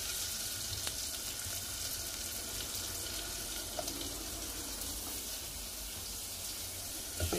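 Chopped onions fry in melted butter in a pan, giving a soft, steady, continuous sizzle at low level with no talking.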